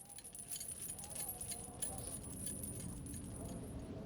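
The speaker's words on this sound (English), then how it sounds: "And this enormous bunch of rusty keys." A heavy bunch of rusty old keys on a ring jangles in a steady, continuous metallic chink for several seconds, near and moderately loud over a low hum.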